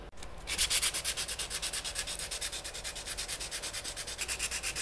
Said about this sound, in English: Maybe if I start hand sanding, that'll help using the files.